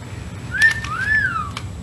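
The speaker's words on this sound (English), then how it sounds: "Whistle." A FurReal Parrot Squawker toy gives two rising-and-falling whistled notes, clear and close, with a brief pause between them and nothing else around.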